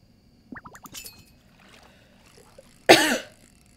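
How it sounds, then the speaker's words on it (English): A single dry, harsh cough bursts out loud and close, standing alone after a few faint earlier sounds during a quiet stretch. "I have such a dry cough, my God."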